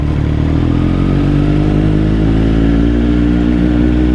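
A 2021 Triumph Street Triple RS motorcycle fitted with a Zard slip-on exhaust runs close by, giving a loud, steady engine drone that holds an even pitch throughout without obvious revving.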